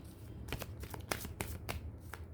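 Tarot cards being shuffled and drawn one by one, a series of crisp riffling flicks in quick irregular bursts, close and soft against a steady low background hum.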